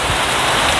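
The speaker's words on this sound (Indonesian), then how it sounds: "Hujan angin teman-teman. Hujannya sangat deras." Very heavy rain driven by wind pours down on bougainvillea plants, a loud, dense, unbroken hiss filling the whole moment.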